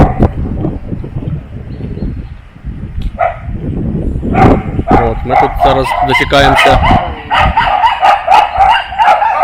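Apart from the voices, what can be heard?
puppies barking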